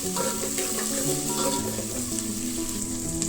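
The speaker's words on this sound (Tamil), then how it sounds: "சாம்பாருக்கு வெங்காயம் ரொம்ப வதக்கக்கூடாது ஒரு ரெண்டு நிமிஷம் வதக்கினா போதும்" Chopped onion sautéing in a pan for sambar, a steady close sizzle and crackle with occasional stirring that holds evenly throughout, no voices.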